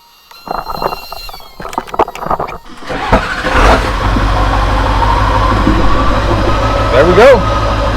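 A diesel truck engine cranks over with glow plugs preheated, using a portable jump starter, then catches and settles into a loud, steady idle with a rattling diesel knock that continues to the end.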